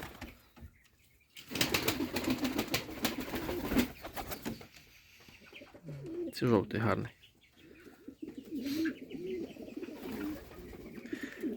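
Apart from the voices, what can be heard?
pigeons cooing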